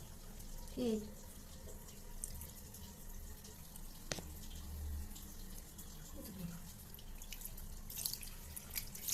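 A cat being rinsed of shampoo during a bath: quiet water trickling and dripping, faint and uneven, with a brief murmur of voice in the background.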